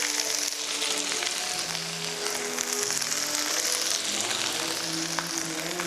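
Shallots sizzle steadily in a hot pan while a cook makes turkey goulash. The crackle is constant and moderately loud, with faint tonal clinks from the kitchen and no talking.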